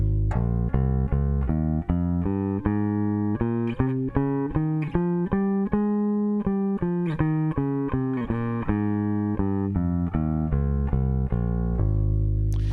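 Bass guitar running a two-octave scale up from the low octave, steady evenly spaced notes climbing and descending, played alone without talk, fairly loud and close.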